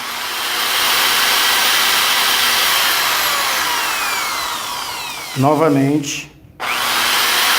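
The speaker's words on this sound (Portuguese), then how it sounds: "a partir do momento que eu ligar a furadeira" An electric drill runs with a continuous, loud whirring whine through most of the stretch, broken by a short spoken word before the motor starts up again.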